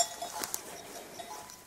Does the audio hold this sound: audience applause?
no